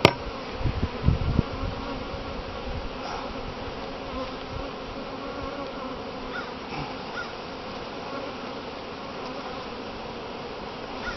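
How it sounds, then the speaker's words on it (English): Honey bees drone around an open hive box, a steady dense buzzing close to the microphone, with a few louder knocks and handling sounds in the first couple of seconds. "when you have a full box of bees like this"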